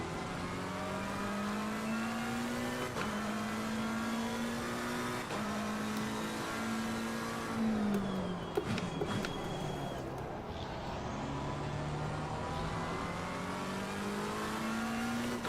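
A BMW race car engine in the Assetto Corsa Competizione racing game at Misano revs hard through rising gear pulls, with shift breaks and a brief dip while braking before accelerating again, loud and continuous with no talking.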